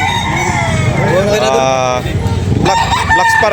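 Roosters crow and cluck at a rooster market in Cebu in the morning. A drawn-out crow rises close by over a busy bed of other birds and background noise.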